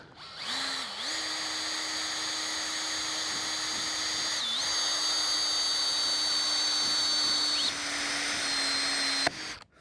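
A power drill fitted with a stop bit drives a screw into trim on a ranch house job, a steady close whine lasting several seconds with a brief dip midway and a shift in pitch before it cuts off at the end.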